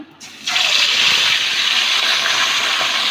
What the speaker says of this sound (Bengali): এবার ভাজার জন্য মাছটা দিয়ে দেব তেলটা গরম হয়ে গেছে